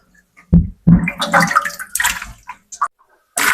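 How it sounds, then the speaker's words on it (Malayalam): Raw beef is washed in water in a home kitchen, with close splashing and sloshing in short bursts as the meat is rinsed and swirled, followed by brief drips and pauses. "അപ്പൊ നമ്മുടെ ബീഫ് എന്തായാലും രണ്ടു മൂന്ന് വെള്ളത്തിൽ കഴുകിയെടുക്കട്ടെ"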